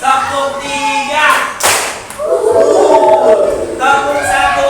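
A classroom of children gives one sharp, loud group clap, set between stretches of their chanting voices.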